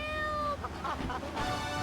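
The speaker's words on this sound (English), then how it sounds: "Rescue a cat out of that tree with your banana cannon, Pogo." A cat meows several times in quick succession inside a GTA 3 game advert, close and clear over a steady background hum, with no speech.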